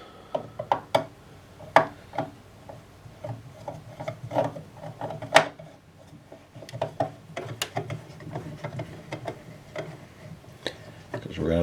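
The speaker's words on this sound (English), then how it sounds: "So there's a screw on the left side of the machine that you're going to remove. So just use a straight screwdriver" A straight screwdriver works a screw loose from the left side of a Singer Heavy Duty sewing machine, giving sparse metallic clicks and scraping taps at close range, with a voice talking alongside.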